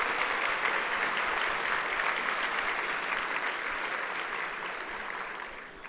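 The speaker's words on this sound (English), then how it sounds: "let's give her a round of applause" Audience at a 2019 gala breaks into sustained, dense applause that stays loud and even throughout, easing slightly toward the end.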